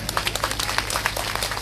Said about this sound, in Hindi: आप इनके लिए भी जोरदार ताली बजाए।